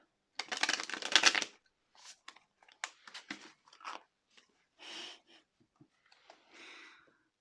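A tarot card deck shuffled by hand, a dense riffling burst first and then a series of shorter, separate flicks and taps, close and fairly quiet with no talking.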